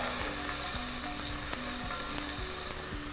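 Chopped onions sizzle loudly and steadily in hot oil, a constant crackling hiss with occasional light knocks of a utensil against the pan.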